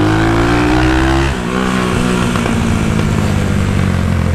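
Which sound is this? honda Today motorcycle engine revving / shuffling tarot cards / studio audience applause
honda Today motorcycle engine revving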